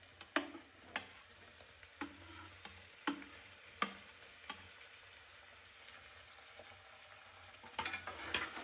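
Chopped tomatoes being stirred into poha in a pan, batata poha cooked village style, giving a quiet, steady sizzle with several sharp scraping and tapping strokes of the spoon spaced a second or so apart.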